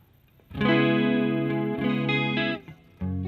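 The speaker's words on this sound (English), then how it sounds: "this is definitely more of like a room reverb" Electric guitar through BIAS FX with a digital room reverb: sustained, distorted chords ring loud and close for about two seconds, cut off, then start again after a short pause.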